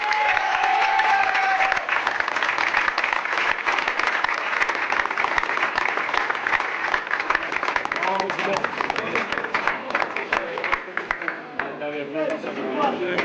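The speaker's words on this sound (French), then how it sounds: "j'aimerais encore une fois qu'on applaudisse bien fort" Hearty audience applause for Jean Verbeke, former vice-president of the French Football Federation, a sustained crowd of clapping hands with some cheering, running throughout while voices and speech carry over it.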